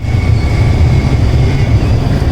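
A train rumbles past near Sloterdijk station in Amsterdam, a loud, steady low roar close by with a faint whine above it, and no voices.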